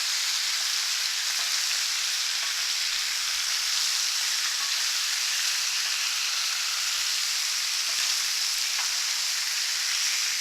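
Bacon sizzles and crackles steadily on a hot griddle, a dense, even frying hiss that holds at a constant level throughout with no voices.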